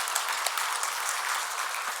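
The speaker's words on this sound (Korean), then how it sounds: "박수 한번 드리도록 하겠습니다" Church congregation clapping in welcome during a Korean worship service, a steady wash of applause for two seconds at moderate loudness with no talk over it.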